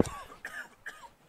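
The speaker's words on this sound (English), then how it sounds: "Sorry for everyone who had, like, my cough, like, reverberating through their ears" One person coughs sharply once, then gives a couple of softer throat-clearing hacks, close to the microphone and fairly quiet, during a doubles match of Super Smash Bros. Ultimate.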